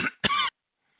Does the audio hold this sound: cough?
yes